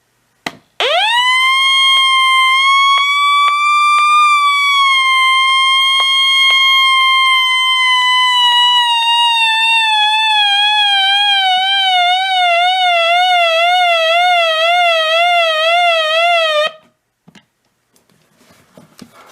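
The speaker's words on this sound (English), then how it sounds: "it will stop and continue to sound the siren" A Radio Shack 12-140 radio's loud electronic alert siren rises quickly, holds a long steady wail, then begins wavering before cutting off abruptly, followed by faint clicks.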